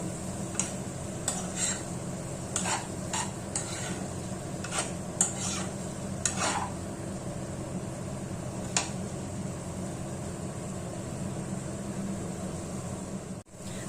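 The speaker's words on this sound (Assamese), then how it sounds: "लो फ्लेमत এই পনীৰখিনি 1 পৰা 2 মিনিট সময় ভাজি লম।" Paneer with ginger and coconut fries gently over a low flame, a soft continuous sizzle broken by a series of sharp scraping and clinking stirring strokes against the pan.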